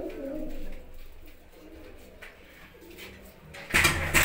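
Pigeons in a loft in Sangrur district, Punjab, giving soft low cooing calls that rise and fall close by, then a sudden louder rustling burst near the end.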